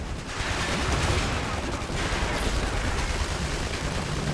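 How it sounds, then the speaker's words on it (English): A rocket blast in the Iron Harvest game, heard as a dense, loud rumble of explosions and rapid gunfire that rolls on continuously from start to finish. "A bit of a rocket blast."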